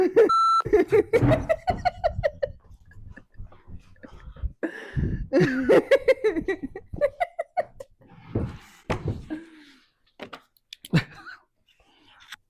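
A short electronic beep sounds at the start, followed by people talking and laughing.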